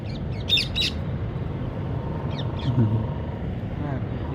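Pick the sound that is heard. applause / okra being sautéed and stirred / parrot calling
parrot calling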